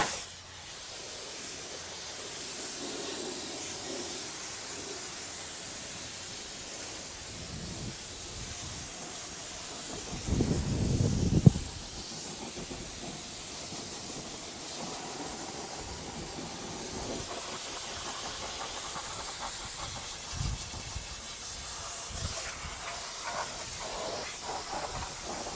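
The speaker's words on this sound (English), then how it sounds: "And give this a final rinse," Water sprayed over car wheels and a fender during a Subaru Forester wheel cleaning, a steady broad hiss that runs throughout, with a louder, more forceful burst of spray near the middle.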